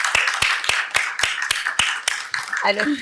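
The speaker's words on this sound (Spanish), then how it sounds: "Le damos un aplauso a la doctora Carolina Aroní" Applause for a doctor at the close of a bank-hosted interview event, mostly a few loud, evenly spaced individual claps near the listener, then a voice speaking at the end.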